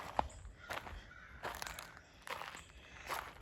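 A bird, apparently a crow, calls in the woods beside a church with several harsh caws at uneven intervals, faint and somewhat distant, and soft footsteps can be heard between the calls.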